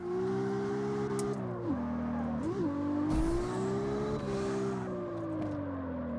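A racing game car engine revs and drops pitch as it downshifts through gears, swooping down and back up several times, close and steady with no talk.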